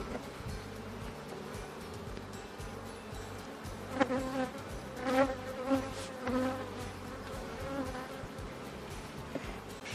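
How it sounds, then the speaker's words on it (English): Many honey bees buzz softly together in an open hive in a low, steady hum, with a few individual insects droning louder as they pass close by. "Look at all these bees."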